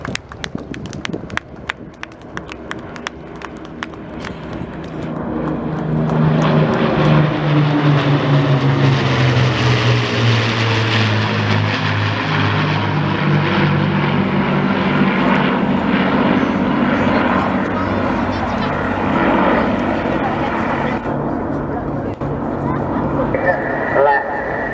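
The Battle of Britain Memorial Flight's propeller aircraft display at RIAT 2022 sounds as a loud, swelling piston-engine drone. It rises to a close pass with a sweeping pitch change, then lingers as a sustained rumble.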